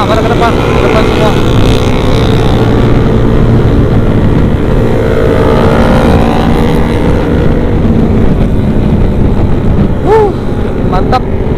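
Yamaha R6, Kawasaki Z800 and ZX-25R motorcycles ride through Banda Aceh at night, engines droning loudly and revving continuously under wind noise, with brief higher whines near the end.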